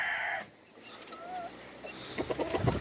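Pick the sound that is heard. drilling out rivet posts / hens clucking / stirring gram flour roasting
hens clucking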